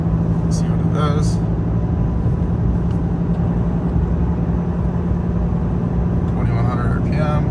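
A 2022 Ram 5500 truck engine pulled at full throttle, a steady loud low drone inside the cab, with someone speaking briefly over it.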